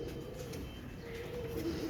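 Teddy pigeons held for sale coo softly in a short, steady murmur that runs continuously against low background noise, with no voices.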